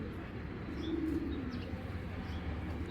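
Pigeons at a Bangladeshi pigeon farm raising Giribaz birds, giving a low, steady cooing murmur with a few faint chirps that runs continuously across the short stretch.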